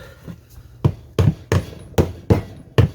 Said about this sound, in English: just tap the bearing, tap the shaft the other end